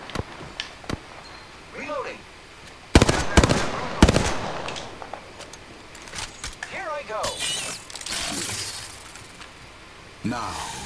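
Gunfire in Apex Legends, sharp bursts and single cracks arriving in irregular clusters, some rapid and dense, some isolated and distant, mixed with breaking and shattering impacts while a player talks over the action.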